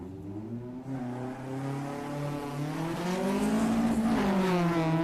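A Mazda Miata race car accelerates through a solo autocross run at Daytona, its engine note climbing steadily in pitch and growing louder as it revs hard, with no voices over it.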